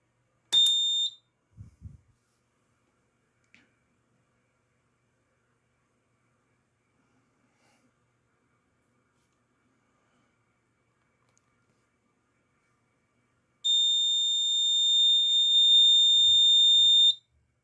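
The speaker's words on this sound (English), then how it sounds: "first power up of the new Simplex 4010" A Simplex 4010 fire alarm panel powers up for the first time: a short piercing electronic tone at the start, a few faint clicks, long silence, then a sustained loud alarm tone near the end.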